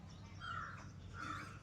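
A bird, likely a crow, gives two faint, distant caws about a second apart over quiet background noise.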